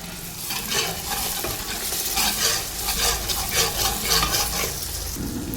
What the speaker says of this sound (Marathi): आता हे टोमॅटो कांदा छान फ्राय झालेला आहे